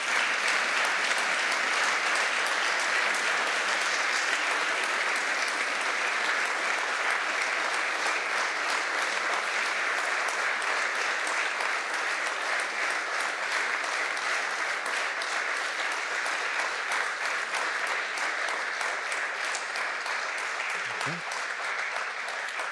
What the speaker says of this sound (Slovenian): Pa kar prosim za en aplavz.